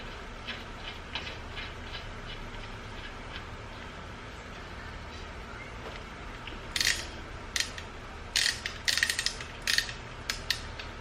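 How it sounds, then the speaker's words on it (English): Torque wrench being worked on the wheel studs of a BMW F80 M3, with a few quiet scattered metallic clicks that grow into short bursts of ratcheting near the end over a faint background hiss. "so this is a torque wrench, 25 foot-pounds with a 5 hex"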